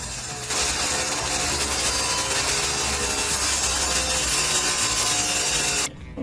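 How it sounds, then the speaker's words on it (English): Saw blade tilted to 12 degrees cutting oak parts for the bottom of a cradle, a dense, loud continuous rasping whir through the wood that ends abruptly after about six seconds. "I'm ready to do the cutting of these bottom parts, and I already tilted the angle of the blade 12 degrees"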